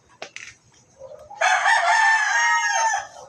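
A farm chicken lets out a couple of short clucks, then a loud, drawn-out crow close by, alone without talk.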